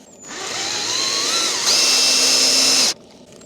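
A cordless drill spins a small water pump, whining steadily near the mic with a pitch that climbs and then jumps higher about halfway through before cutting off abruptly.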